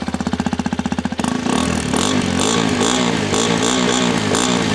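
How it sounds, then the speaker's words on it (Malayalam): A Hero Xpulse 210 motorcycle idles with a rapid, pulsing exhaust thump, then the engine note rises into a louder, steadier rev with a slight wavering, heard up close and alone. "അപ്പോൾ ഇതിൻ്റെ എക്സോസ്റ്റ് നോട്ട് ഒന്ന് കേട്ടോ."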